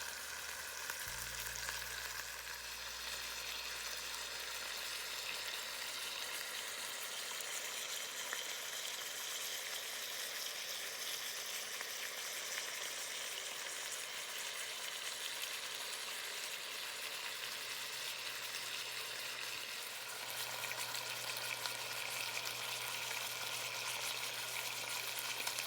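Pot roast searing in a hot pan gives a steady, even sizzle that runs close and continuous throughout, with a low hum underneath and no talking.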